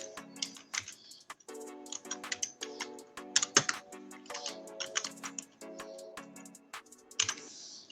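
Rapid clicking of keys on a computer keyboard, irregular bursts of close, crisp taps with short pauses, no talking.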